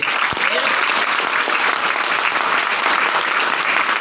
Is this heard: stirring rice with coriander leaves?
no